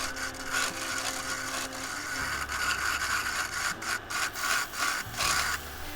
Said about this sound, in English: I just blend it down gently with my round nose carbide scraper